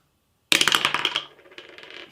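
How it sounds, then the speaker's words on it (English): Dice for a strategy board game tossed onto a hard surface, a sudden clattering burst of rattling impacts that quickly settles and dies away. "Okay, so we're going to roll the dice."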